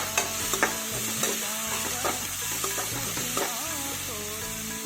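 Ginger garlic paste fries with browned onions in a pan while being stirred, with a constant sizzle and occasional sharp clinks and scrapes of a spoon, close and without talk.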